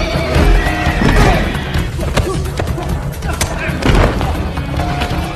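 A horse whinnies loudly in a stable during a fight scene in the film John Wick, with clopping hooves, heavy thuds and voices mixed in.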